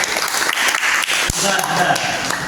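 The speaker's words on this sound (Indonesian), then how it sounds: "Tepuk tangan untuk kelompok 4 ya." Dense clapping from a school class fills the whole stretch, steady and fairly loud, with a brief knock partway through.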